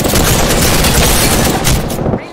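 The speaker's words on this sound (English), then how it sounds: "They're shooting at me." Dense, continuous video-game gunfire from a shooter with shields and reloading, loud and sustained for about two seconds before cutting off, with voices faintly mixed in.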